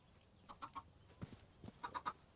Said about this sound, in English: Please don't kill these chickens.